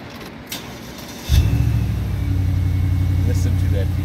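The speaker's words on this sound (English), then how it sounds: "Listen to that V8." A Bentley Continental V8 twin turbo engine fires up partway through and settles into a deep, steady, close rumble at idle.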